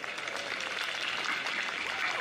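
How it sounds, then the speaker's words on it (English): Outdoor audience applause at a community holiday tree lighting event in Mountain View, a steady wash of clapping that holds evenly across the whole moment, with a faint murmur of crowd underneath. "Let's give them another round of applause."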